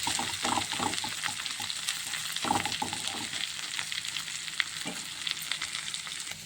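Boiled, mashed potatoes for aloo bonda filling are stirred in a hot pan, with a soft continuous sizzle and rhythmic scraping strokes throughout.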